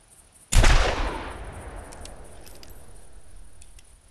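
A single loud .45 Long Colt revolver shot rings out at a shooting range in the hunting game theHunter Classic, its boom decaying into a long echoing tail.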